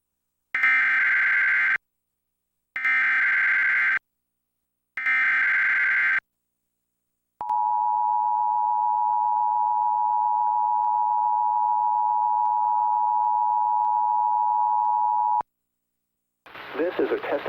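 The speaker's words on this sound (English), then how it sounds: "The following tones will conclude this test." An Emergency Alert System test plays three identical loud tone bursts with short gaps, followed by one long steady single-pitch alarm tone of about eight seconds, then a brief burst of noise.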